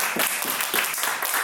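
An audience at a church youth group book concert claps to welcome a pastor-author onto the stage, a dense, even burst of applause throughout.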